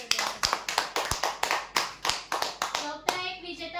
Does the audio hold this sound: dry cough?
no